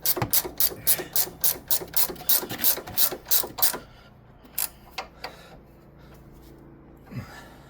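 A ratchet spins a sway bar link nut on a 2005–2007 Ford Focus, first with a quick run of rhythmic clicks, then a few sparse, isolated clicks close by.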